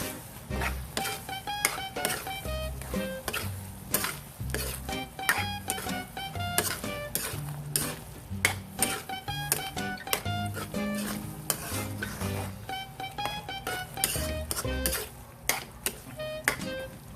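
Ground pork sizzles in a pan while a utensil stirs it, scraping and clinking against the metal in a quick, irregular rhythm over a steady frying hiss, close and continuous.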